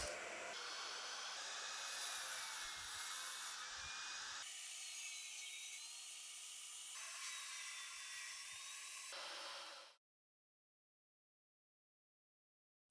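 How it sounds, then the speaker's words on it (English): A saw cutting wooden legs from fence boards and 2x6 at a 60-degree miter, a high whining cut that shifts pitch in stages, then stops abruptly into silence. "I set my miter gauge to 60 degrees and cut the tops and bottoms of the legs"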